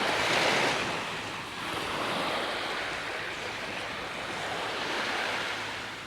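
Ocean surf rolls steadily onto a tropical island beach, a broad continuous wash of breaking waves with gusty wind buffeting the microphone and no voices.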